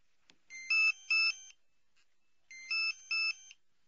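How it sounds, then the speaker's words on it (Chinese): A telephone rings in a police radio drama. Two electronic double-ring bursts, each with two pulses, come clearly and near against silence, with a pause between them and no voices. "巧了，是潘大伟的电话"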